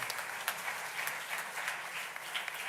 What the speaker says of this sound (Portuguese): saudamos também o nosso colega com uma salva de palmas também